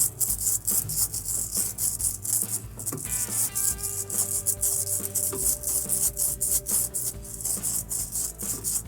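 Steady scraping and rasping of sandpaper rubbing a refrigerator capillary tube during a Sub-Zero refrigerator repair, repeated in quick close strokes with a faint hum in the background.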